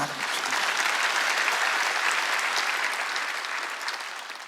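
Church congregation at a Wednesday service clapping together, a dense, loud burst of applause that swells quickly, holds steady and then tapers slightly toward the end.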